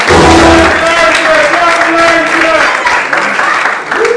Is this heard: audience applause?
yes